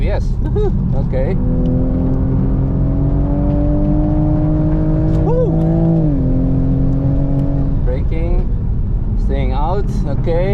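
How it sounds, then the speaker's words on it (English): Bilstein-equipped Toyota Supra at full throttle on the Dijon circuit, engine note climbing steadily in one long pull before a brief dip at a shift, then rising again, loud and close with a driver talking over it. "Staying out, okay, opening up, flat on the gas, let's go, main straight."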